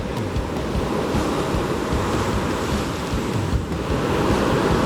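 Atlantic Ocean surf washing onto a beach, a steady broadband roar of breaking waves with heavy wind buffeting the microphone throughout, continuous and close with no voices.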